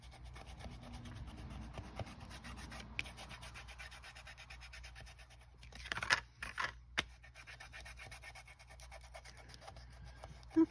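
Soft, faint rubbing and scratching as a distress crayon glides over a surface coated in collage medium, a quiet continuous drag with a few slightly louder strokes near the middle, no voices.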